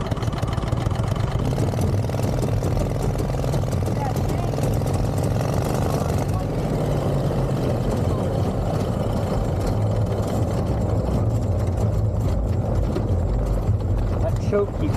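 An off-road go kart with a 16hp V-twin engine runs continuously, a loud rumbling engine drone rising and falling as it drives, with someone talking over it.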